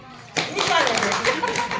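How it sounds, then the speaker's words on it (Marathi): Hands clapping along at a Marathi ukhane rhyme recital, a burst of group applause starting abruptly and continuing steadily, with children's voices mixed in. "टाळ्या वाजवा की"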